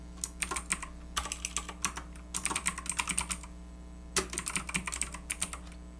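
Text typed on a MacBook keyboard, close crisp key clicks in quick irregular bursts separated by short pauses, over a low steady hum.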